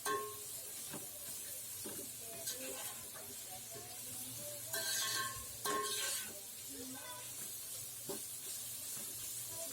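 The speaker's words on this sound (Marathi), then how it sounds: "ही सगळी प्रोसेस आपण मोठी आच ठेवायची, आपली हाय फ्लेम ठेवायची आणि पटपट पटपट परतून घ्यायचं" Vegetables for chicken fried rice stir-fried on high flame, a soft continuous sizzle and hiss with quick scraping tosses and a few brief louder bursts, fairly quiet overall.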